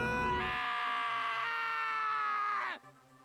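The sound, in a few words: screaming in the video game Danganronpa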